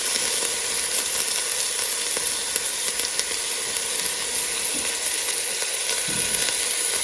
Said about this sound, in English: let this saute until the onions begin to sweat or become translucent